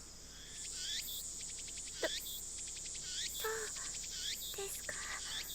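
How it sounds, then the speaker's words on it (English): Cicadas chirp steadily in a Steins;Gate game scene, a dense, high, pulsing drone of repeated trills close by that carries on throughout with no voices. "The only sound is the chirping of cicadas."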